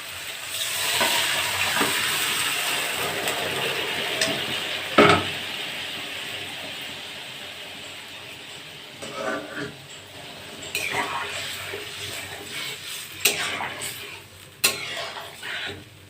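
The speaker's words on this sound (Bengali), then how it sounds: "হালকা একটু ভেজে দেবো তেলের উপর, বেশি খুব একটা ভাজবো না" Something frying lightly in oil in a pan with a continuous soft sizzle, punctuated by occasional clinks and scrapes of a utensil against the pan, close up and moderately loud.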